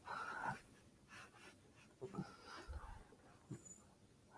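Two dogs outside a sliding glass door whimper and pant faintly, with soft breathy bursts and a few thin whines spread across the moment, quiet and somewhat distant.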